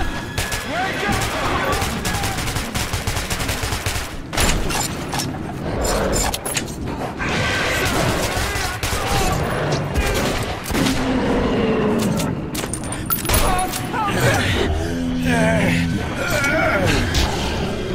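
Dense, sustained gunfire and explosive bursts fill a chaotic Metro 2033 Redux cutscene, loud and continuous throughout, with shouting voices and impacts mixed in under the barrage.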